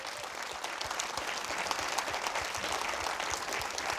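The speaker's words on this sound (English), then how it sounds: "that was a round of applause for the students" An audience at a fifth-grade academic challenge event claps for the students, a dense, continuous wash of applause from a large crowd, loud and even throughout.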